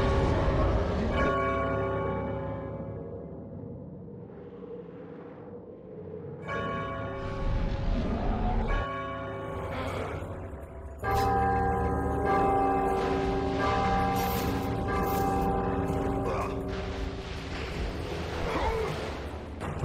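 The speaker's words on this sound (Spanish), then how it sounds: "Este señor le pega la campana de Zeus" Bell of Zeus struck in the God of War II video game, ringing out in several deep, resonant clangs with long sustained tones that swell and decay over about twenty seconds.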